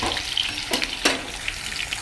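Sliced garlic and curry leaves frying in oil for tomato chutney, a soft continuous sizzle with two brief scraping stirs, close and moderately quiet, no voices.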